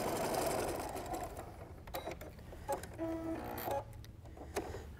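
Sewing machine with a quarter inch foot stitching quilt pieces, a steady mechanical whir that is strongest at the start and then continues fainter with light clicks and rattles, close by with no talk.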